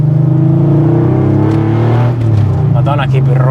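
A Porsche 911 RWB with a naturally aspirated 3.6-litre flat-six boxer engine revving loudly and continuously up close, with the engine note rising and shifting, while people talk over it.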